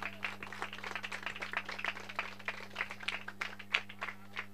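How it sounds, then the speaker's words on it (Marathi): An audience at a cricket league prize ceremony applauds the umpires, a light, scattered clapping that keeps going at moderate distance over a faint hum. "पंचांसाठी टाळ्या वाजवा मित्रांनो"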